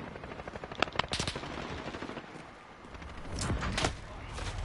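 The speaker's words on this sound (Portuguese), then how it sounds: "eu nasci tomando tiro que nem pra mim era" Rapid gunfire in the video game Call of Duty Modern Warfare, bursts of automatic fire and sharp single shots crackling over a continuous noisy game backdrop, loud and close.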